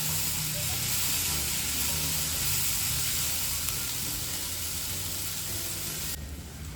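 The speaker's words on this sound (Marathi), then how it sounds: "टोमॅटो तुम्ही मीडियम टू हाय फ्लेमवर परतून घेऊ शकता" Tomatoes sautéing in a pan over a medium-high flame for spinach pulao, giving a steady, close hiss of sizzling that runs evenly before thinning out near the end.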